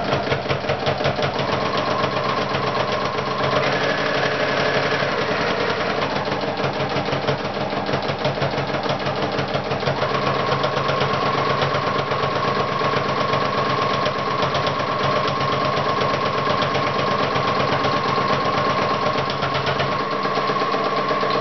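A sewing machine stitching a hat runs continuously and fairly loudly, with a fast, steady mechanical chatter and a faint whine that shifts pitch partway through.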